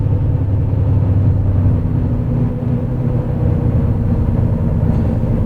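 A Honda Odyssey van, recently repaired after running rough, cruises down the road with a loud, steady low engine hum and road rumble throughout, with no talking.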